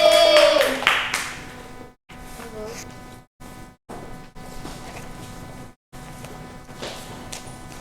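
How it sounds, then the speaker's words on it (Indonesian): A classroom of students clapping together, with scattered claps broken by brief silent gaps and a few tonal sounds early on, fairly close and uneven. "Beri tepuk tangan untuk kita semua."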